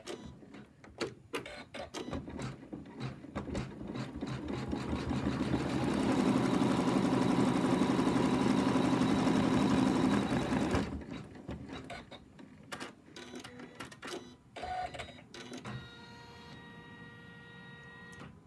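An embroidery machine stitches an in-the-hoop fabric lamb leg with a steady, fast mechanical whirring and tapping that swells louder in the middle and then breaks into intermittent clicks and pauses.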